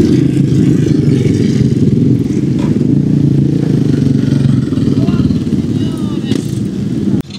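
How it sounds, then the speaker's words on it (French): Motorcycles at the Dakar rally roar loudly and steadily up close, a dense engine drone with some clatter over about seven seconds before cutting off abruptly. "Que des motos de fou, les gars."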